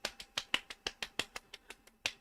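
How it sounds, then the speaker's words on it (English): A rapid series of sharp, slapping smacks, about a dozen evenly spaced hits, crisp and close with no talking. "Well, there's the belly slap,"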